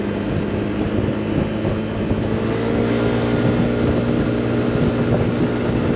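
A Yamaha XMax 125 maxi scooter rides at normal road speed, its engine a steady, loud drone mixed with wind rush, constant and unbroken throughout.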